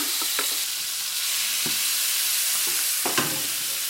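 Ginger and garlic sizzle in hot oil in a pan, a loud steady frying hiss close by, broken by occasional scrapes and taps of a spatula as they are stirred.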